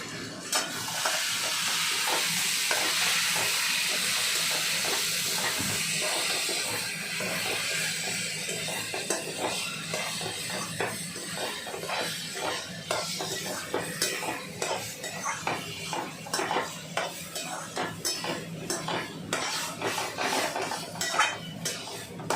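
Turmeric and chili fry in a pan while a spoon stirs, producing a steady sizzle early on that gives way to rapid metallic scrapes and clinks against the pan, close and without voices.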